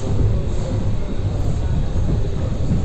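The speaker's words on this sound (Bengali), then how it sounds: "ট্রেনটি ইতিমধ্যে পৌঁছে গেছে ঈশ্বরদি জংশন স্টেশনে" Benapole Express passenger train heard from inside a coach: a steady, loud rolling rumble with continuous low-pitched drone and rattle, and no voices.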